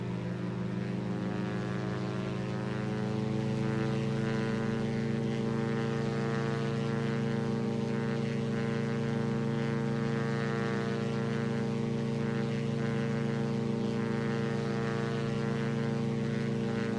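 Twin-propeller Diamond DA62 aircraft in the X-Plane 11 flight simulator at takeoff power, a steady loud droning engine and propeller hum that swells slightly after a few seconds and holds constant with no voice.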